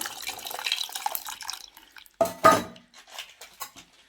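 Tamarind juice is poured into a cooking pot for tomato rasam, giving splashing and clattering kitchen sounds with a few louder pours and knocks near the end, close and fairly quiet with no talking.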